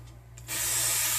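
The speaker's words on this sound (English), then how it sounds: "And you just spray your scalp." A spray bottle of water gives a short hissing burst of mist onto a braided scalp, close and fairly soft.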